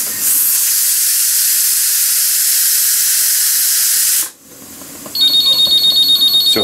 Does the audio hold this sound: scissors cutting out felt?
no